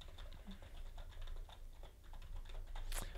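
Steady typing on a computer keyboard, a quick patter of soft key clicks at an even pace, close and fairly quiet.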